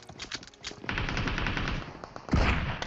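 Pistol gunfire in the mobile battle royale game BGMI: a rapid run of shots that turns into sustained firing, with a louder burst near the end, moderately near and heard alone.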